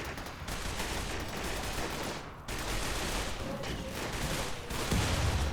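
Micro missile strikes in the Rimworld video game land as a sustained barrage of dense, rumbling explosions, one continuous loud burst of fire with a heavier thump near the end and no voices.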